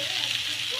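Grated coconut, chillies, black pepper and garlic frying together in a pan for Chettinad mutton kulambu, giving a steady, even sizzle that holds close and constant throughout, with no talking over it.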